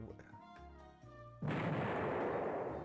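A torpedo strike explodes in the naval strategy game Rule The Waves 3, a sudden loud booming blast that bursts in after a quieter stretch and then rumbles on, sustained and close.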